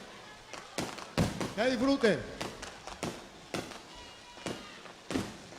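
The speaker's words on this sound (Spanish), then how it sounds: "Ahí están los fuegos artificiales." Fireworks bursting over an outdoor Latin music concert in Curaçao, a rapid irregular series of sharp cracks and thumps spread across the clip, with a voice talking and a rising whistle among the explosions.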